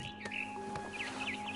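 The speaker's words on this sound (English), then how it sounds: "Then I heard chirping outside my window. It was a barn swallow going back to her nest." Faint, high barn swallow chirps in the video game What Remains of Edith Finch come in short bursts over a quiet, steady background hum, sounding thin and slightly distant.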